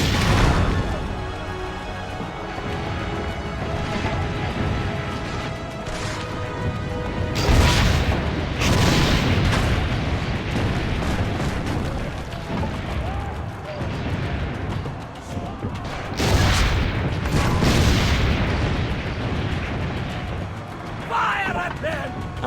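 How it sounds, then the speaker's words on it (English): Cannon fire in Assassin's Creed Brotherhood comes as repeated heavy booms with crashing impacts over a dense, continuous game soundscape of mechanisms and commotion. A voice talks over the top throughout. "Because I'm bad at shooting the cannons."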